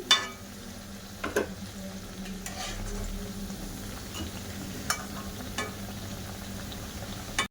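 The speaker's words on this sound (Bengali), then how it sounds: "বাদ বাকি জিলপিগুলো ভাজা করে নেবো" A batch of taler jilapi, palm-fruit fritters, bubbling and sizzling in hot oil, a continuous low crackle with occasional brief clicks of a utensil, nearby and moderately quiet.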